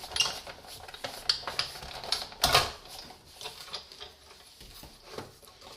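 A Big Shot die-cutting machine cranks a card and cutting plate through its rollers, giving a run of uneven clicks and ratcheting rattles with one louder crunching burst partway, close and fairly quiet, with no talk.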